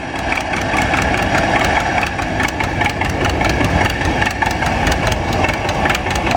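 A 1976 model 212 two-cylinder tractor engine runs loud and steady with an even, throbbing rhythm at close range, continuous throughout with no voices over it.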